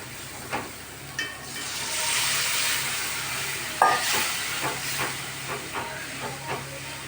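Soaked kudampuli water is poured into a simmering curry, raising a steady steamy hiss and bubbling with a few soft splashes and spoon taps.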